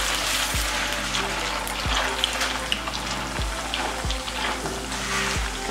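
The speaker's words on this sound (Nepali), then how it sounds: "मटर पनीर चाहिँ तारेर हामी चाहिँ पकाउन गइरहेछौँ है" Matar paneer (peas and paneer) fries in a pan with a steady, close sizzle, broken by a few dull knocks from stirring; no one speaks.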